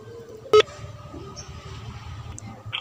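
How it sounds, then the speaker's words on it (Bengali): An outgoing call on an iPhone gives a single short, sharp electronic tone, then a quiet background hum. "রিং হচ্ছে"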